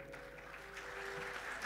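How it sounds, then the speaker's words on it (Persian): An audience at a music school concert at Azadi Tower claps for a guest, a steady, fairly faint patter of many hands with a low sustained tone underneath. "تشویق بکنید دوست خوبمون آقای اخشابی رو"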